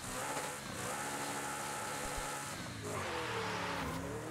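A 2021 McLaren GT engine in the Forza Horizon 5 racing game gives a steady, sustained hum with one dip and a rising rev near the end, with no talk over it.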